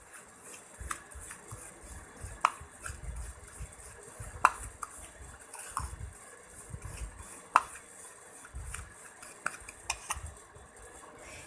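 Neck whitening scrub ingredients are stirred in a bowl, with irregular soft scraping and several sharp clinks of a spoon against the bowl, close and quiet, without talk.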